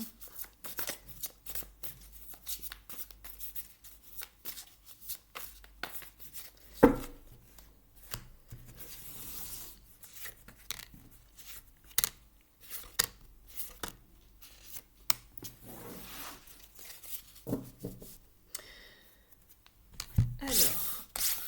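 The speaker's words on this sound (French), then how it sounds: "je vous installe les cartes" Tarot cards are shuffled and laid out on a table in close, quiet bursts of riffling, rubbing and tapping, with irregular pauses between handfuls and a voice speaking briefly.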